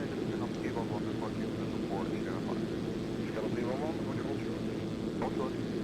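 Zlin Z-142 single-engine propeller plane in X-Plane flight simulation, a steady droning engine and propeller hum throughout, continuous and even in loudness, with a voice talking over it.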